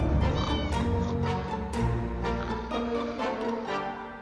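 A cat meows in the survival game 60 Seconds, several short cries in a row over a busy, loud game soundtrack with no talking.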